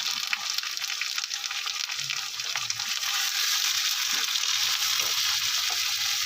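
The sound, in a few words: bhetki fish frying with salt and turmeric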